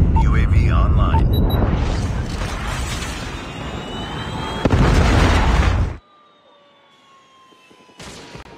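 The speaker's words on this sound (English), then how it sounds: "hostile predator missile inbound" A Call of Duty Mobile predator missile strike erupts as a loud, dense blast with rumble and debris that lasts several seconds, then cuts off abruptly into quiet game ambience with faint tones.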